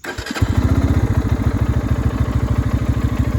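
A brand-new budget commuter motorcycle fitted with an aftermarket exhaust starts up with a quick crank and catch, then settles into a loud, steady, rapid idle putter close by.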